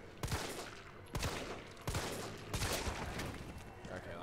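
Gunfire from the Resident Evil 3 Remake video game: several loud, sharp shots in quick succession, each followed by a ringing decay, over a steady background of game ambience.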